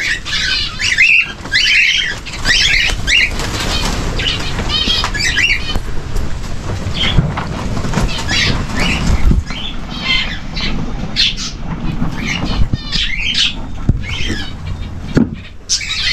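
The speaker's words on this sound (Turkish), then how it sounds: "Bakın bir kanaryamız burada." A canary and other caged birds squawk and chirp repeatedly at close range, with bursts of wing flapping and rustling between the calls.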